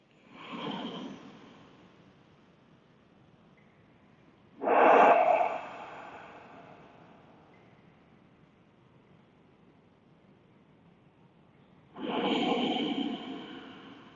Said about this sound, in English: Deep, slow breathing.